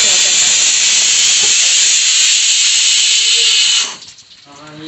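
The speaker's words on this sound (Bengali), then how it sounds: "কুকারের মধ্যে আলু সেদ্ধ হচ্ছে" A pressure cooker boiling potatoes lets out a loud, continuous high steam hiss for about four seconds, then stops abruptly, leaving quieter kitchen sounds.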